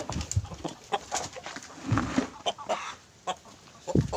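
Several breeder chickens cluck in short, scattered calls at close to middle distance, with soft farmyard background between them.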